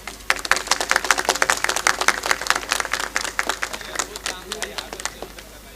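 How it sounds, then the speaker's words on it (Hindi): An audience at a Hindi poetry recital in Hathras applauds loudly, with dense clapping that stays steady for several seconds before thinning slightly toward the end. "ताली बजाइए जोर से।"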